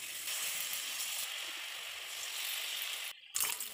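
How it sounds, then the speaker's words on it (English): Batter-coated pieces of steamed egg fry in oil over a medium flame, making a steady, bright, close sizzling hiss that runs on evenly and then briefly breaks off before resuming. "Now fry these in medium flame until it turns golden brown"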